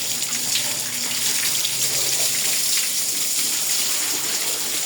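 Water gushes and splashes steadily at close range while a cow is washed down, a continuous hiss-like flow with no talk over it.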